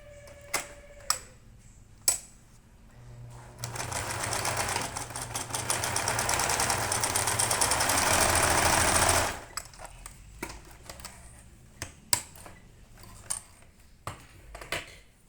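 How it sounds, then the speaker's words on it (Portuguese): A sewing machine whirs in a continuous run of several seconds, stitching a corner seam on a rabbit-shaped fabric backpack, with scattered clicks and taps before and after. "Nós vamos passar uma costura formando este cantinho aqui e o cantinho de cá"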